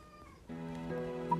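A cat meows loudly and insistently in a long, drawn-out cry that starts abruptly and holds steady near the mic, rising at the end, with the animal resisting being put into something.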